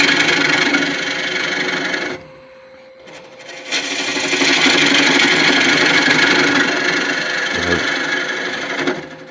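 A small spindle gouge hollows end grain on a wood lathe for a natural edge clock, a continuous close rasping cut that stops for about a second, then resumes steadily over the spinning motor hum.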